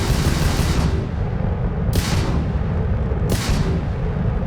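A sci-fi energy weapon in Starfield fires steadily while the trigger is held, a loud continuous barrage with sharp bursts cutting through roughly every second and a half.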